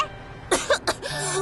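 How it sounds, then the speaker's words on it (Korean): A cartoon bus character from a children's show coughs three times in quick succession, clear and close, over a steady soft background tone. "요새 자꾸 기침이 나와."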